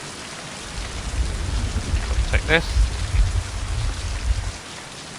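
Steady rain falls in the video game Mind: Path to Thalamus, a dense, even hiss with low rumbling underneath, while a voice briefly talks over it.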